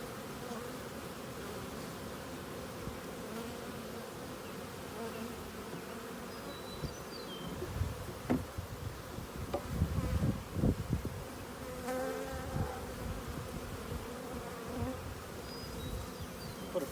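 Honeybees hum steadily in an open hive during a hive inspection before making splits, a dense close drone of many wings with louder swells and brief knocks of frames being handled partway through.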